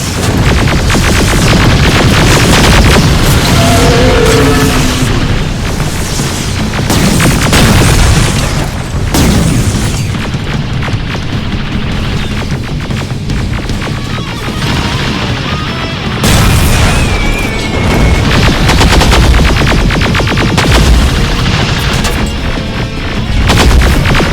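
Gunfire and rocket explosions from a Terminator video game form a loud, unbroken barrage of booms and rapid shots, dense and close throughout with no clear pauses.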